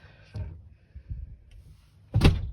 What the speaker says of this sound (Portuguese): Abrir a porta pelo lado de fora.